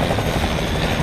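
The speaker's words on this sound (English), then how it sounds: "I'm flying a helicopter right now" Helicopter in the Fortnite video game, a steady, loud rotor and engine drone filling the short moment without pause.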